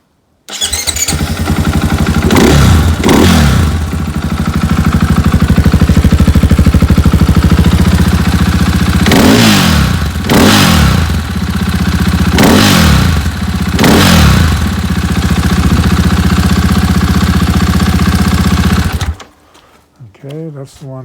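KTM four-stroke dirt bike with reeds, XCF-W or EXC-F type, starts up and runs steadily for about nineteen seconds, loud and close, with several sharp throttle blips rising above the idle before it cuts off.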